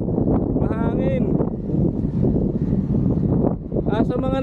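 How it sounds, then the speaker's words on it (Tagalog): Strong, steady wind buffeting a microphone during a ride, a low roaring rumble with a person talking over it at times. "Mahangin."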